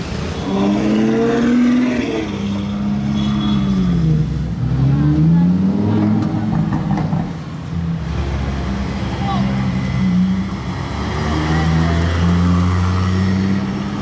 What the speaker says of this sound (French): Une Ferrari relativement discrète.